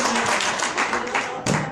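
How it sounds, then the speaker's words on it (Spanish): Congregation in a church breaks into applause, a dense round of clapping mixed with voices, fairly close and loud, with a sharp louder burst near the end. "Un aplauso al Señor."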